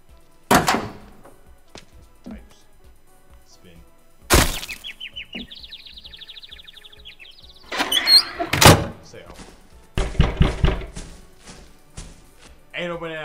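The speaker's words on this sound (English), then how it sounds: "Door." A door in the Roblox game Project Transfer sounds as a sharp thunk, followed by a scraping slide and several clattering knocks. Brief game chirps and effects are mixed in, and the sounds are loud and close.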